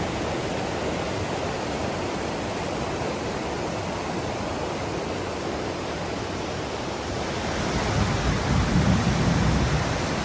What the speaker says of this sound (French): On vient d'entendre l'orage, ça commence à gronder un peu sévère.